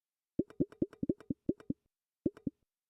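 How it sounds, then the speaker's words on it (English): Hollow, bouncy twangs from a wobble board, a quick run of about a dozen wobbling pulses, a pause, then a few more, close and clear. "wobble board sounds like that"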